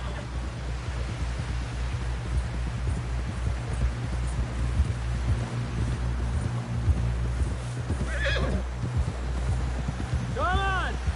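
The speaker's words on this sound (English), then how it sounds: "Someone help John down off this horse" Steady hoofbeats of a galloping horse in the video game Red Dead Redemption 2 over a constant low rumble, with a short whinny near the end; a voice speaks briefly under the hooves.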